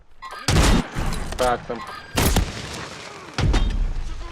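Gunfire in the video game Warzone, several loud bursts of shots cracking close by at irregular intervals, with a player's voice talking between and over them.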